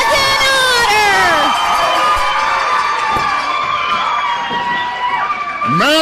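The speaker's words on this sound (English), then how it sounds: "would you listen to this crowd here at Davis Arena?" A wrestling crowd at Davis Arena cheering and yelling in a loud, sustained roar with rising shrill shouts and whistles, while an announcer talks over it.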